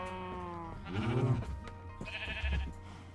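Sheep in the Minecraft video game bleating twice in quick succession, clear and close, with game background music underneath.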